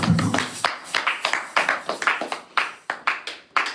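A church congregation claps in a loose rhythmic beat, around a dozen distinct claps in under four seconds, close and fairly loud.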